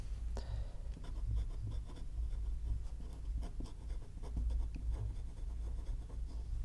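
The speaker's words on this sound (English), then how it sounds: "And then I write down where I got it" A Pelikan M800 Souverän fountain pen writes on paper, giving a steady, close scratchy rustle of nib strokes that runs continuously over a low background hum, with no talking.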